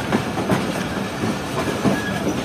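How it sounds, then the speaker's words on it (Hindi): Pak Business Express passenger train rolling over points as it changes tracks past a station platform, heard from inside a coach: a steady loud rumble with rhythmic clickety-clack wheel beats, no talk. "ट्रेन जो है आगे से ट्रैक चेंज कर रही है"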